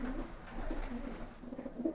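Domestic pigeons, including a fawn male, coo softly at a home loft, with low repeated rolling coos in a loose rhythm, faint and close, and no talking.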